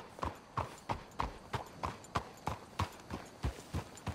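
Horses' hooves clip-clopping at a steady walking pace in a Western video game, a regular string of close, distinct hoof strikes heard alone.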